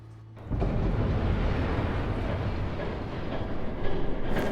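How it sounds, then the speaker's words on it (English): A train roars in from near silence in Batman: The Telltale Series, a sudden loud, sustained rumbling wash of rail noise that holds steady and swells slightly near the end. "There's a train coming."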